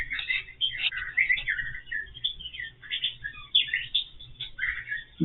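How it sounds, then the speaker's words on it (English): Small birds chirp and tweet outside a window in quick, bright bursts, fairly close, repeating irregularly over faint low background hum, with no talk. "Birds are actually pretty loud too, but we can't do nothing about birds, right?"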